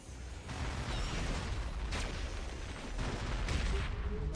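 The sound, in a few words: Iron Man firing missiles in video game Marvel Heroes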